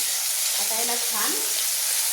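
Onion, tomato and spices with bay leaf, peppercorns and cumin sizzle steadily in hot oil for paneer pulao, a constant close frying hiss with a brief scrape of stirring partway through.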